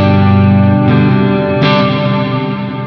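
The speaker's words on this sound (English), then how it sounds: "a really good usable reverb" An electric guitar runs through a G-Lab Rebel Series reverb pedal, sustained loud chords ringing with a lush wash of reverb, a new strum entering midway before the tail slowly fades.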